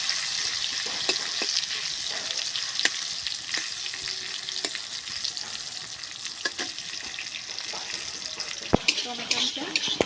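Tomatoes with salt fry in a pan and are stirred, giving a steady close sizzle broken by scraping spatula strokes and occasional sharp taps against the pan.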